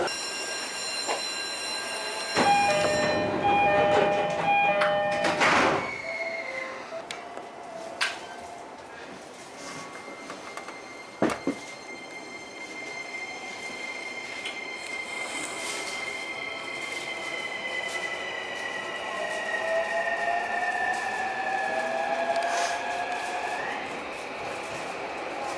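A JR commuter train on the Utsunomiya Line rumbles and rolls through a station in Japan, with a long metallic squeal rising over steady running noise, a brief sharp clank partway through.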